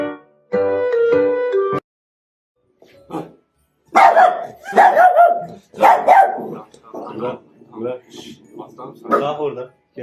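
A happy dog gives a drawn-out whining cry, then a string of loud, close barks and yips in uneven bursts, with people's voices mixed in.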